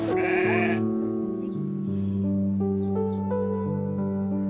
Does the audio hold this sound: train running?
no